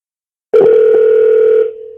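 A telephone dial tone sounds while a call is placed again: silence, then a single steady electronic tone starts abruptly and holds for about a second before dropping slightly in level.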